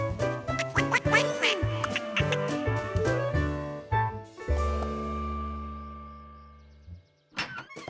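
Cartoon ducks quack in a busy run of short nasal calls with thumps, set in a kids' animated puddle scene, loud and close, followed by a quieter tail and a brief final squawk.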